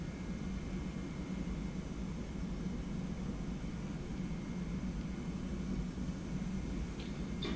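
A simulated Airbus A320 takes off in a flight simulator, its jet engines making a continuous broad roar that holds steady throughout, with no voices over it.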